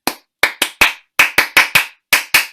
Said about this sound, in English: they have the clapping thing